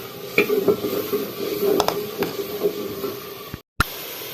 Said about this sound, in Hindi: मसाले वगैरह फ्राई हो चुके हैं, तो अभी सब्ज़ी ऐड की जा रही है।